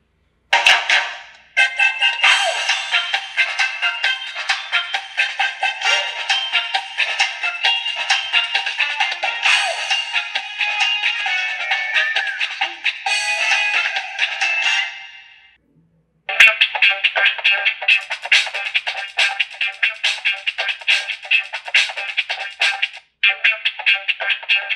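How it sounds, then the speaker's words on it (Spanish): A series of ringtones from a Samsung SGH-F275L mobile phone play one after another, loud and electronic with melodic beeping patterns, a brief pause midway before the next tones continue. "Estos son todos los tonos que tiene este celular Samsung F275."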